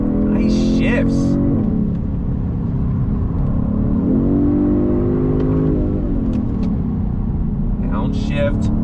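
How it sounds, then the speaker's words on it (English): A 2022 Genesis G70 sport sedan accelerates hard from a dead stop, engine note climbing and dipping through several quick paddle-shifted gear changes, loud and steady throughout, with someone talking over it. "We're gonna use the paddles once again from a dead stop. On throttle, here we go. Nice shifts."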